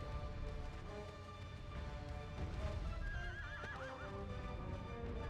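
A horse in the video game Shadow of the Colossus gallops with rapid, steady clip-clop hoofbeats, then lets out a clear, wavering whinny midway through, fairly loud and close.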